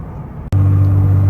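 A bagged Mazda3 on air suspension drives along with a steady, loud low engine drone inside the cabin, starting abruptly after a brief click and holding constant.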